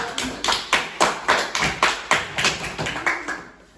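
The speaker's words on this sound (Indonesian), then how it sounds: "tepuk tangan untuk diri sendiri" A group in a school counseling session claps for themselves, a steady rhythmic run of about a dozen loud, in-unison hand claps that fades out at the end.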